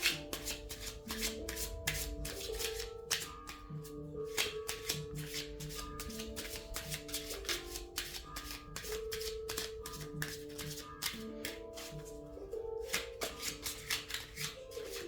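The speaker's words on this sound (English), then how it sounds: "I'm gonna pull some more Romance Angels cards for you guys" Oracle cards from a Romance Angels deck being shuffled by hand, a steady run of crisp riffling and flicking close up over soft background music, with no talking.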